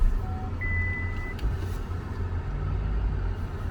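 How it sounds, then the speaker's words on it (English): A couple of short electronic parking-sensor beeps from an MG Gloster SUV sound over a steady low vehicle rumble, clear and close. "So there is a beep. That's the parking sensor."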